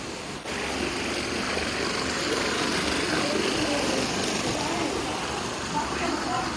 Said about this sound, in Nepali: खोलाको आवाज सुन्नु भइरहेको छ तपाईँहरूले